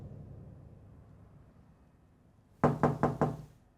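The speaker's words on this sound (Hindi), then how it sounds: "अजरा बेटा दरवाजा तो खोलो।" Four quick, firm knocks on a house door in a dramatic scene, close and sharp, following a stretch of quiet low room hum.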